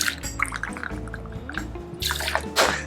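Gin poured into a metal cocktail tin, a steady trickling liquid stream with small splashes and clinks, close and fairly loud.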